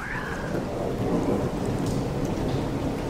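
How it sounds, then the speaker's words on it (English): Steady heavy rain falls outdoors during a thunderstorm, with a deep continuous rumble of thunder rolling beneath the dense patter throughout. "stormy out here, as you can hear"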